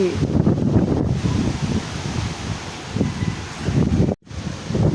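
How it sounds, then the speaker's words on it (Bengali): Strong gusty storm wind roars steadily across the microphone on a rooftop as rain begins, buffeting and rumbling loudly with a brief dropout near the end. "সকাল সকাল ঝড় বৃষ্টি শুরু হচ্ছে, বাতাসে তো বাতাসে আমি ছাদে এসে পড়ছি।"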